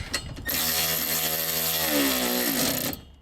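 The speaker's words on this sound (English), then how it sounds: "And then I got my little electric ratchet here." An electric ratchet tightening harness bar bolts on a 2001-2006 Mini Cooper, a close, steady whirring buzz lasting a few seconds whose pitch rises slightly just before it stops.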